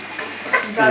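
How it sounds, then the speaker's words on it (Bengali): Carrots and beans fry together in a pan for fried rice, a loud continuous sizzle with stirring scrapes swelling near the end. "গাজর, বিনস সব ভাজা হচ্ছে।"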